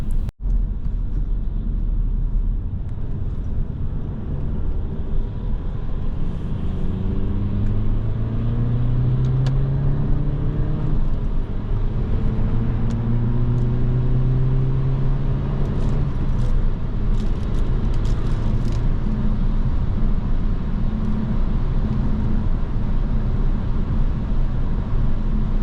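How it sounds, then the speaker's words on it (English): An Audi A5 with 160 horsepower accelerates onto a snowy freeway, its engine drone climbing through several rising sweeps over constant road and tire noise, heard from inside the cabin with no talk. "The acceleration of this car is quite nice, definitely enough for 160 horsepower."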